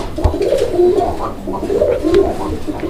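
Pigeons at a pigeon sale coo repeatedly in soft, throaty rolling phrases, close and clear, with no speech over them.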